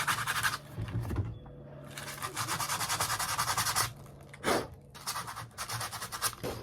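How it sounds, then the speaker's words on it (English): Sandpaper rubs a wooden hiking staff around a drilled hole in close, rasping back-and-forth strokes with short pauses between bursts. No one speaks. "we're just gonna sand down around the hole."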